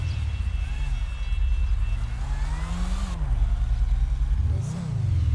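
A car engine in a video game revs up and down in several swells, loud and close, with one sharp climbing rev near the end and no talk over it.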